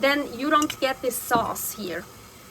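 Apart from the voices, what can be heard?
None of the usual background noises is heard.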